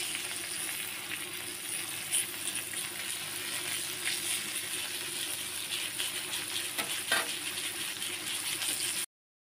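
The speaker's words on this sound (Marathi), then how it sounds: "मस्त असं घेते फ्राय मारून." Katla fish frying in a pan, a steady close sizzle with soft crackles and a light clink, continuing evenly before cutting to silence.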